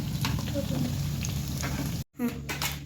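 Bread slices frying in plenty of oil in a pan for a sweet sandwich, giving a steady close sizzle and crackle with a brief break near the end; someone speaks over it.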